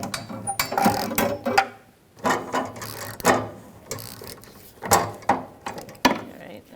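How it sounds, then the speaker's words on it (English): Bolt on a fuel tank strap of a 2000-2007 Ford Taurus 3.0L V6 being threaded in and hand-tightened, with close, irregular bursts of mechanical clicks and metallic rattles separated by brief pauses. "now we're going to put the bolt in on this side. Now we're just going to hand tighten."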